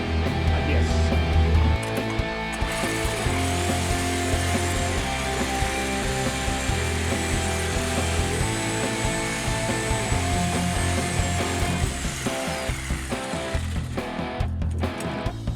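A power tool runs steadily and loudly for the whole stretch, a dense mechanical whir with grinding, gritty texture and no pauses.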